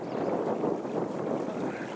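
Wind gusts over open water around a small rowboat used for trolling, pushing it backward as it drifts; a steady, broad rushing noise with buffeting against the microphone, close and continuous, no voices.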